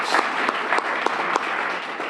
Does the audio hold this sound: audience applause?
yes